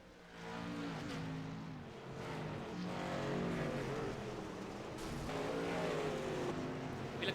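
Racing trucks roar around the Eldora dirt track, several engines droning and whining together at a distance, a sustained moderate race sound with no talk.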